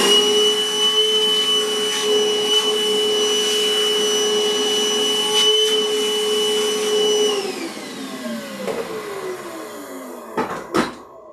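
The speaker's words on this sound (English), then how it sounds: "vacuum's coming back out" A vacuum cleaner runs loudly and steadily with a constant high whine, then winds down in pitch near the end, followed by a few sharp knocks and clatters.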